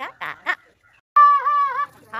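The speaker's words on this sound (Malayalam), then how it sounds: "കണ്ടോ, നിറയെ കാക്കകൾ വന്നു." Crows gather at a ritual food offering, giving a few short calls followed by one longer, drawn-out wavering caw, loud and close.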